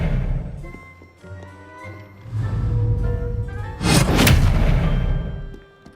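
In Hogwarts Legacy, a cast Expelliarmus spell bursts out as a sharp, booming blast with a crackling whoosh, loud and brief over a rumbling game soundscape.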